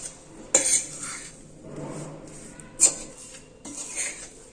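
Sugar is stirred into a sweet magaj mixture in a pan, making scraping and clinking sounds with a few sharper knocks against the pan, fairly quiet and close, with no talking.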